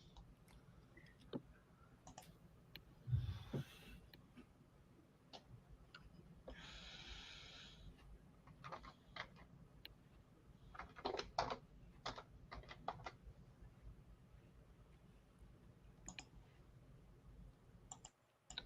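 Someone types on a computer keyboard during a live stream, producing soft, irregular key clicks in scattered bursts across a quiet room, with faint background hum and no speech.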